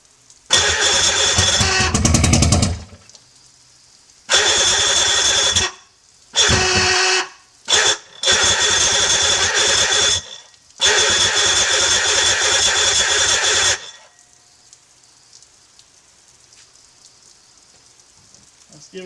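A 1986 Mercury 90hp outboard boat motor on an aluminum boat cranks loudly in several long bursts separated by pauses, close to the microphone, then falls to a quiet hiss with no talking.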